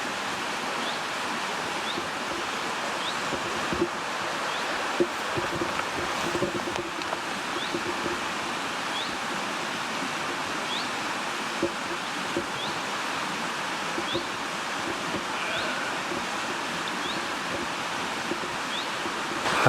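Steady broadband rushing of a river flowing in Wensleydale, near Coverham Abbey, fills the scene continuously, with faint birdsong chirps repeating above it.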